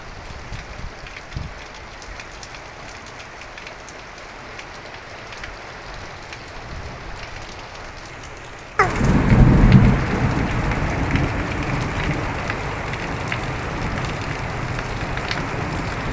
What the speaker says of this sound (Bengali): কি বৃষ্টি হচ্ছে ওরে আল্লাহ রে।